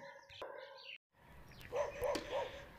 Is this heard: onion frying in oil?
no